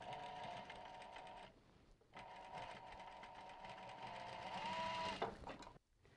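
A sewing machine stitches across a fabric circle bag, a close, steady mechanical whirring run that pauses briefly, starts again and slows at the end, no talking.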